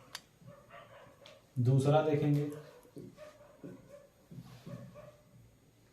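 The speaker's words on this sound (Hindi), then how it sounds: "और कुत्ते भौंक रहे हैं, हमको तो लग रहा है उनका भी आवाज आ रहा होगा।" Dogs bark in a loud burst of several quick barks partway through, with a voice talking before and after at a distance.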